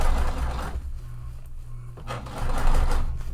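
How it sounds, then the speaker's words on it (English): Sewing machine top stitching a fabric tote bag, a close steady motor whirr with a rapid needle chatter that pauses briefly in the middle before running on again. "now I am top stitching this"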